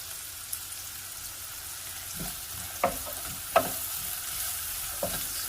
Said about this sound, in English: Okay, I'm going to give this a quick saute.